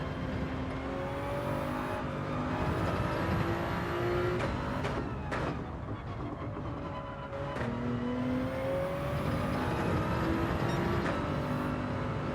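A race car engine in Gran Turismo 7 drones steadily around a lap, revving up through gear changes with rising and falling whines, continuous and up close, with no talk.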